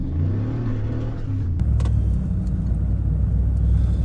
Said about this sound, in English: we're driving down the road here